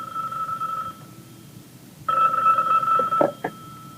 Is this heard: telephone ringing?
yes